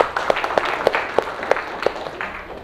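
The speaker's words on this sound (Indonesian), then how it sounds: "tepuk tangan dulu buat kalian" Students clap together in a classroom, a short burst of sharp, evenly spaced rhythmic claps like a patterned group clap, moderately loud and close.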